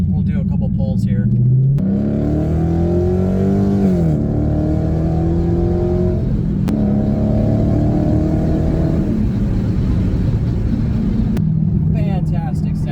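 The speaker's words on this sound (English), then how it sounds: "You know you're in a Hemi powered car, and it's a fantastic sound." A 6.4 liter Hemi V8 in a Dodge Challenger accelerates hard from inside the cabin. Engine pitch climbs through repeated pulls and drops at each shift, loud and steady, with speech partly over it.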